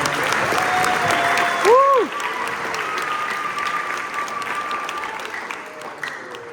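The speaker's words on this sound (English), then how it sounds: "Can you give them a round of applause?" Audience applause at a spring volleyball awards event honoring an undefeated 18-0 championship team, steady broadband clapping from a large crowd throughout, with a brief voice rising over it near the start.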